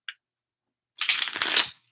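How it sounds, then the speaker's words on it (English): A tarot card deck gets a quick riffle shuffle, a brief dense burst of crisp card flutter lasting under a second after a small tap, close and clear. "I'm really going to give this deck a nice shuffle."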